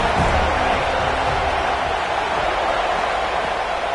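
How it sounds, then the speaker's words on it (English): A home crowd roars at a college football game in a packed stadium, a loud, constant wash of cheering and shouting that holds steady without a break. "how nice is it to have the home crowd going absolutely bananas?"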